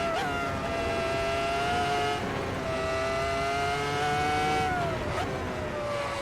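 A race car engine at the Nürburgring drones close and loud in a sustained high pitch, shifting down with sudden changes in tone about every two to three seconds.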